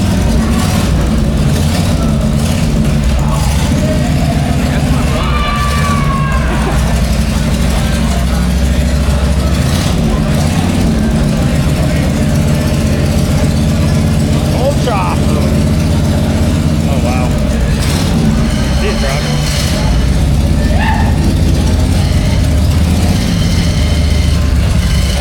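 Turbocharged Harley-Davidson Road Glide with a Milwaukee-Eight engine and open primary runs loud and steady, a deep, heavy idle rumble lasting throughout outside a saloon as people talk nearby.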